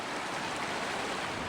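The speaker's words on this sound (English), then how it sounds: "we're back at the creek, which means we're back at the falls" A mountain creek rushes over the falls on Colorado's Diamond Lake Trail, giving a dense, steady wash of water. It sounds broad and continuous with no voices over it.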